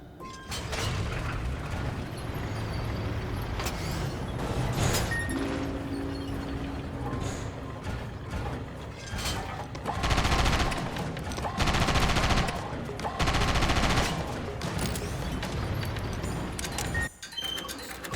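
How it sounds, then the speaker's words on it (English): Tank combat in the video game Sand Land: repeated loud gunfire bursts and heavy booms over a dense mechanical rumble, with the firing growing most intense in the middle section and game music underneath. "This looks like it wants me to pull out the tank."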